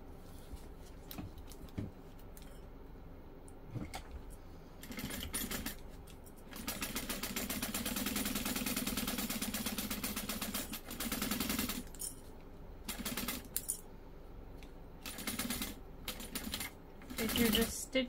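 Home sewing machine stitching down the sides of a Sarah Bag beside a zipper with a quarter-inch seam allowance, a steady mechanical whir running several seconds between softer fabric handling noises and short bursts.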